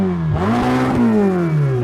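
Ferrari 488 GTB with a 3.9 litre twin-turbo V8 revs up sharply, its loud, close engine note rising and holding high before easing back, with no voices over it.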